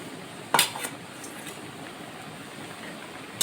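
Fried paneer pieces are tipped into a pot of boiling moong dal, one sharp metallic clatter of a utensil against the pot followed by a softer knock, then a low simmering hiss.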